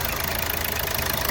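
A Hyundai Verna engine idles smoothly after an ECM fitting, with no knocking, as a steady, continuous mid-to-low engine hum without talk.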